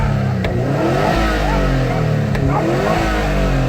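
A Subaru WRX STI boxer engine revs and pulls from inside the car, a steady loud throbbing drone that rises and falls in pitch, with faint voices under it.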